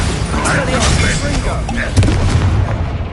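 A Bombarda blasting spell goes off in Hogwarts Legacy with a heavy, booming burst amid ongoing combat noise, loud and close, with a voice speaking around it.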